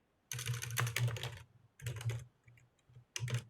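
Keys clatter on a computer keyboard as login credentials are entered, in three close bursts of rapid typing separated by short pauses, with no one speaking.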